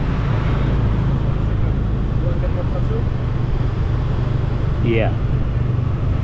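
Steady road noise from cars in traffic on Kayu Aya Street in Seminyak, Bali, a continuous low rumble with brief passing tones, with a voice speaking over it.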